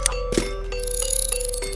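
A bright notification bell chime rings in a few quick, clear strikes with ringing tones over a low steady hum.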